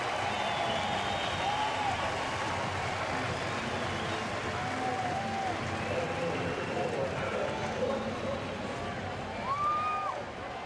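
Baseball crowd at a night game and teammates cheering and applauding for Manny Pena, a steady distant roar with a play-by-play voice talking over it.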